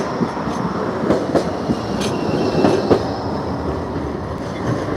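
Blackpool trams rumble past on the evening seafront, two arriving at once, with a steady rolling roar, clicking wheel joints and occasional faint squeals, fairly close and with no talk.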